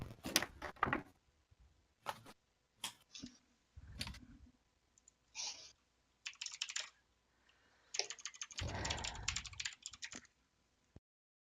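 Bursts of computer keyboard typing come in quick irregular clusters with short gaps between them, close and fairly quiet, with no talking over them.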